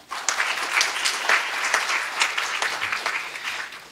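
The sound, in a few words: audience applause for speaker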